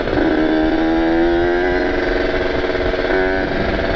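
A two-stroke Kawasaki Ninja motorcycle engine with ported cylinders, running loud and close with a buzzing, slightly uneven idle that rises and falls in pitch throughout.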